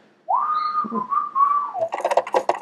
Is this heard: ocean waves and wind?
no